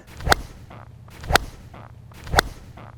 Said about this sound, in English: Wow, a lot more swing speed on that one. Whoosh.